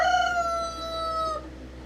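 A rooster crows once in a drawn-out, tonal call that holds steady for over a second and then breaks off, heard clearly over a low, constant background hum.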